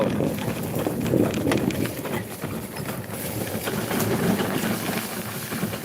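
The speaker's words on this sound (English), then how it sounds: "you hear my cart. That's the quad cart" A small quad cart rumbles along with a steady engine drone and rattling over rough ground, close by, without any talking.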